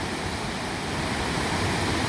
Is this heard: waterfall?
yes